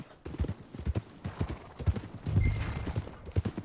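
Horse hooves clip-clop at a steady walking rhythm in Red Dead Redemption II, close and fairly loud, with a brief stretch of low engine-like or ambient rumble midway and no talk over them.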